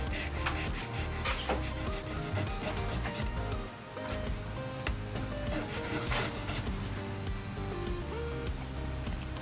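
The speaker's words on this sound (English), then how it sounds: "So that's how I sand the minifigure legs." Plastic minifigure legs are rubbed with sandpaper in steady, close, continuous strokes, fairly quiet and with no one speaking.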